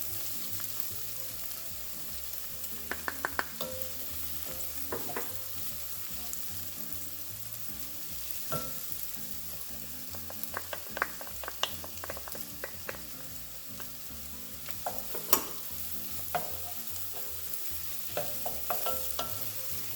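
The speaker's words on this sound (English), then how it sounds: "And continue to stir this for about 2 minutes." Herbs and garlic frying in a pan with vegetables for black bean soup, stirred steadily: a continuous sizzle under repeated scraping and clinking strokes of the spoon, close by and with no talk.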